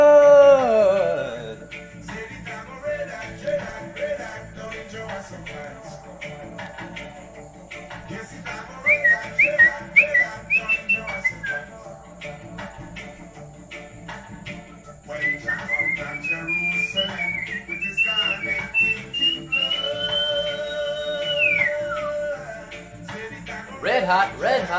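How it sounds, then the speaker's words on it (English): A man whistles a tune, with clear wavering melodic phrases in several passages separated by pauses and some quieter background noise. "I can't whistle as good on camera as I can on my own."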